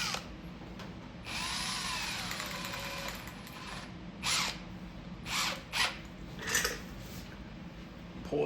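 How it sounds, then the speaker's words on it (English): A power drill spins folded wire while wiring an arcade cabinet, giving a sustained close motor whine that rises and falls, then several short, sharp bursts of the drill. "Stick it in my drill."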